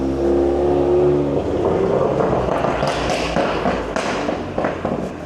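On a street in Palma de Mallorca, a motor vehicle engine rumbles loudly up close, then the sound opens into a rougher, revving roar as it passes by.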